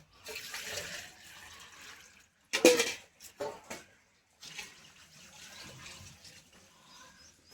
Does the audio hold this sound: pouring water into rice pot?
yes